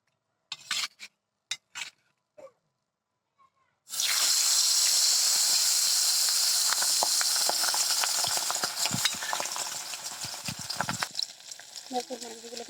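Fish slid into hot oil erupts into a loud, dense sizzle after a few seconds of scattered small clicks and clatter, then the frying continues steadily and gradually grows more crackly and uneven.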